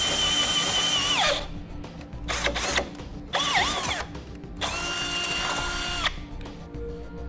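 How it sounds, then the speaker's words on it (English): A power drill with a 3/8 bit whines up and down in several bursts, pitch dropping as it bores through a base plate into a 2009 Honda Fit's metal frame, close and loud with short pauses between. "going to be using that 3/8 drill bit and going straight through the hole in our base plate and drilling"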